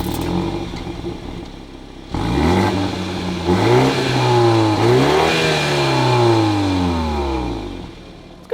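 A BMW X3 SUV with its standard, non-sport exhaust starts up and is revved several times close by, the engine note rising and falling in repeated swells before settling back to idle.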